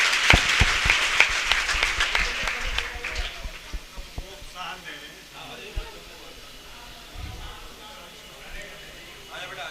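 Classroom of students clapping to welcome a visiting official, a burst of sharp claps that is loud at first, then thins out and fades, with voices and shuffling taking over toward the end.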